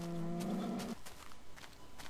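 A Minecraft cow gives one low, drawn-out moo lasting just under a second, followed by faint footsteps and quiet game ambience.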